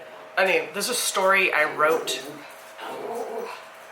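A dog yips and whimpers in short, high-pitched bursts close by, followed by softer whining.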